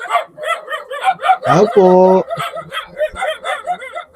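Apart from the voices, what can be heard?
dog barking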